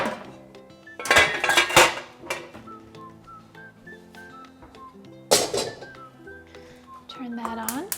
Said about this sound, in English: And I'm going to get out my wok.